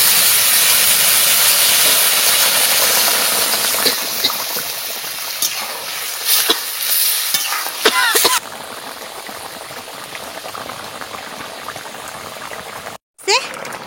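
Curry poured into a hot pan hisses and sizzles loudly at first, then settles into a steadier, quieter bubbling sizzle, broken by a few scraping stirs and clatters.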